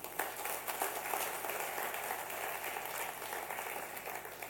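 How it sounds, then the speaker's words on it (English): Audience applause at a youth forum finale in Bangladesh, a faint, dense patter of many hands clapping steadily throughout, evenly sustained without pauses. "I think that requires a round of applause"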